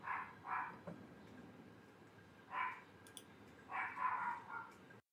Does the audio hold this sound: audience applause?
no